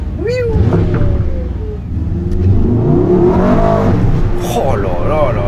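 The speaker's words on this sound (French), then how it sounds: "Vous entendez le bruit du turbo ?" A Mercedes-AMG S63 E-Performance accelerates hard, a loud, close engine rumble rising in pitch with a whistling turbo whine above it, while someone talks over the sound.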